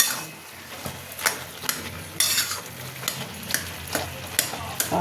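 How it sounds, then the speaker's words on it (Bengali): Boiled radish, potato and pumpkin pieces being stirred in a pan: scattered scraping clinks of a utensil against metal every half second or so, over a low background sizzle, close up with no voices. "মূলো আলু সবই সিদ্ধ হয়ে গেছে ঘেঁটে দিচ্ছি"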